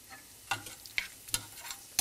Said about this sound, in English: I have a couple tablespoons of butter melting in this saute pan and one onion that's been minced. So that's going in.